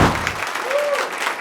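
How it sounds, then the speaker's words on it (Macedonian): A studio audience applauds Nikita and Sara on a television show, a short, dense burst of clapping from the crowd. "Аплауз за Никита и за Сара"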